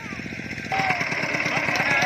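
A farm tractor engine runs at a steady putting rhythm, getting louder partway through, with voices talking over it outdoors in an orchard.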